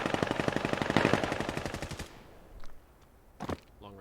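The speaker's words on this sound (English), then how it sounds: "shots being exchanged on the B site" Long-range automatic gunfire in the Vail video game sounds as a rapid, steady burst of shots for about two seconds, followed by a few sparse, fainter single shots.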